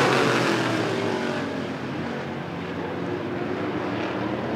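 Stock cars racing at Rockford Speedway, with the 03 car of Nick Osberg battling for first and second, roar as a dense, steady engine drone that fades slightly midway and swells again, with no talk.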